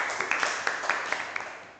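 Students clapping in a classroom, a scattered round of light, fairly quick claps over about two seconds that fade toward the end.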